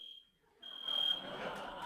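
A fire alarm sounds in a university lecture hall as a steady high electronic tone, briefly stopping and then returning over a rising wash of crowd noise and commotion.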